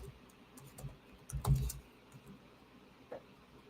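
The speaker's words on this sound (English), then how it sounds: "let me finish this typing first" Typing on a computer keyboard, soft scattered key clicks with a brief louder flurry midway, close but quiet, without speech.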